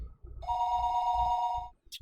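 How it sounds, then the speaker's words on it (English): A telephone in a visual novel video game rings as one sustained electronic trill lasting over a second, bright and steady against a low background hum, then stops abruptly. "It was then I noticed that the phone was ringing."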